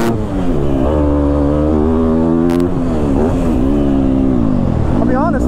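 A Yamaha YZ250F dirt bike being ridden, its engine close and loud, revving up and dropping back repeatedly as the rider works the throttle and shifts.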